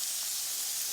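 Ground beef hissing in a hot pan as it is crumbled in for a one-pan beef skillet, a steady, loud, close sizzle with no break and no talking.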